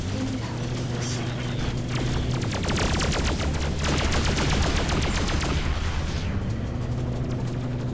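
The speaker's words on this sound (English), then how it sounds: "will you stop shooting at only me?" Enemy ships open fire in the space game Freelancer, a dense rapid stream of repeating laser-like shots over a low engine drone, peaking in the middle and thinning toward the end.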